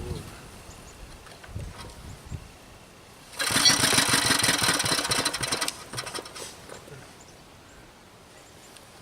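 A Briggs engine on a David Bradley walk-behind tractor is started on full choke, a loud broadband burst of engine noise running about two seconds with rough, uneven firing, then dropping away to quieter sounds and brief talk.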